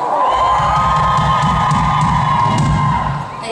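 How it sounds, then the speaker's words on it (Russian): A loud shopping-mall concert crowd cheers and shouts continuously at a show, dense whooping voices sustained throughout before easing slightly at the end. "Давайте покричим, дайте больше шума"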